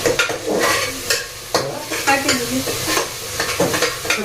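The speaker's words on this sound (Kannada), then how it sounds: "ಈರುಳ್ಳಿ ಕೆಂಪಾದ್ಮೇಲೆ ಸ ಟೊಮೆಟೊನ ಸಣ್ಣ ಸಣ್ಣಕ್ಕೆ ಹೆಚ್ಚಿಕೊಂಡು ಬಾಡಿಸ್ಕೊಳ್ಬೇಕಾಗುತ್ತೆ" Onions and finely chopped tomatoes sauté in a pan, a steady sizzle broken by repeated scraping stirs from a spoon, close and fairly loud with no talking.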